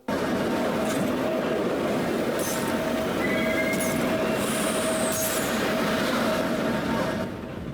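A train rolls through tunnels in the video game Condemned: Criminal Origins. It makes a loud, steady, close rumble throughout, with wheels clacking and faint metallic squeals and whines rising briefly over the roar.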